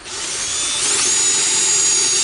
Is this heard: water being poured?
no